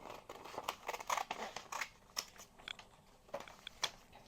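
Scissors snip through glossy junk-mail paper while cutting out a printed picture, a close series of sharp, crisp clicks and crunches, quicker early on and then spaced apart, with no talking.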